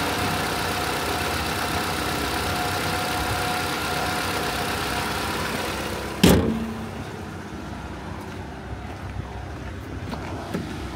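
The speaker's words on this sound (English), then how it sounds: "It's gonna be your four-cylinder engine" A 2012 Ford Escape XLT's 2.5-liter four-cylinder engine idles with a steady, low hum, broken once midway by a single sharp thud before the idle continues more quietly.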